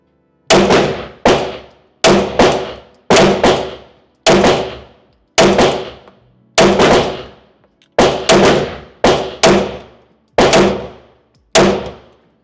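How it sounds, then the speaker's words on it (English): Pistol shots from a Smith & Wesson M&P 2.0 Metal fired at steel targets, about fourteen sharp cracks, most followed by a ringing clang, coming in a steady rhythm of pairs and singles, loud and close with no talking. "kind of get a rhythm going here with the shots."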